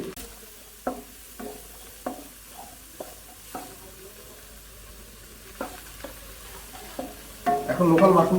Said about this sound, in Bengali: মাশরুমগুলো এক মিনিটের মতো সত করবো